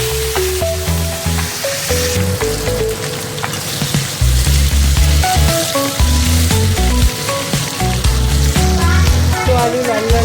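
Whole cumin, bay leaf, potatoes and tomatoes sizzling in hot frying oil, a steady crackling fizz running under background music.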